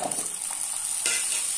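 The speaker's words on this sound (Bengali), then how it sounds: "এবার আমি ভালোভাবে নেড়ে চেড়ে কুমড়োটা ভেজে নেব।" Pumpkin pieces fry in a pan while being stirred, a close continuous sizzle with soft scraping stirs and a brief surge of hissing partway through.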